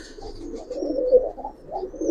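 Giribaz pigeons coo in a steady, low murmuring rhythm, several soft rolling calls overlapping close by with no talking.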